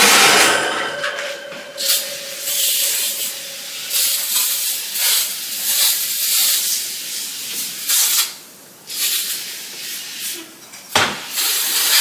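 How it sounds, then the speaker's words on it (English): Repeated hissing bursts of a spray bottle misting cleaner inside an oven, short pumps in an irregular rhythm with brief gaps between them. "I'm going to go ahead and just spray the oven real quick."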